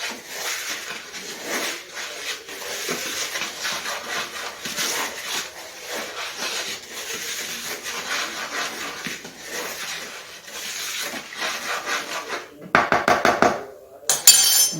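Oatmeal is stirred into a sourdough bread mixture in a bowl, producing soft scraping and clinking that runs steadily, with sharper utensil knocks near the end.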